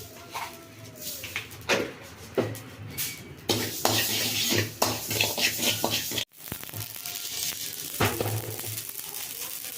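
Mustard seeds dry-roasting in a pan for sambar powder, with repeated stirring scrapes, rattling seeds and light crackling up close, punctuated by clinks of a utensil against the pan.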